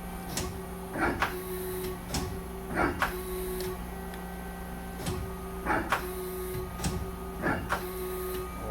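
A 2008 Mazak QTN450-II CNC lathe in a shop, with a steady machine hum under repeated short whirring and clunking bursts from axis moves and a tool change, fairly close and with no speech.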